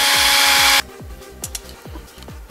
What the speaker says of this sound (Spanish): Y ahora terminamos de pasar nuestro taladro.